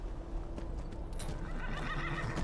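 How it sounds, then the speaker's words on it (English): A horse whinnies in the video game The Elder Scrolls V: Skyrim, a loud neigh rising over steady hoof clip-clops and background game ambience, with no talking over it. "I'm gonna try and ride you back to Shadowmere"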